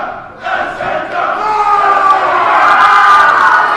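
A wrestling show crowd at a Halloween event cheers and shouts, starting with a sudden burst and then swelling into a loud, sustained roar of many voices that grows through to the end.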